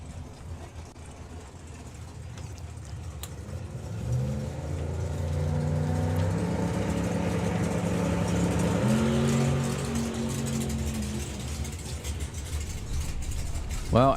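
A drag racing car makes a bye run at the Summer Nationals, its engine rising into a loud, sustained roar that builds mid-run and holds before easing off, with faint commentary underneath.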